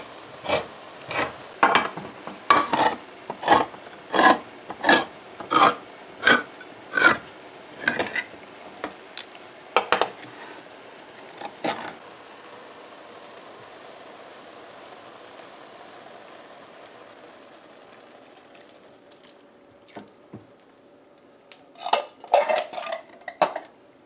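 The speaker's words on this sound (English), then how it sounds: "So now it's time to add our evaporated milk." Canned evaporated milk being added to vermicelli in a pot, heard as a series of sharp metallic clanks and taps of can and utensil against the pot, then quiet bubbling, then more clanking near the end.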